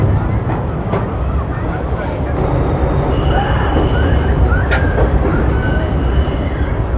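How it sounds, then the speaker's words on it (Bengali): A train rolls onto the bridge over the Yamuna at Prayagraj during the Kumbh Mela, making a loud, steady, close rumble that continues throughout with a few brief clanks. "ট্রেন এখন ব্রিজের উপর দাঁড়িয়ে গেল"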